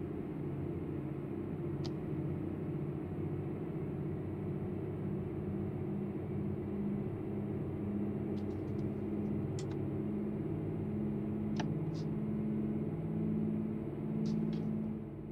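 A bus engine in Euro Truck Simulator 2 drones low and steady, its pitch climbing gradually as it speeds up, with faint clicks on top and no voices.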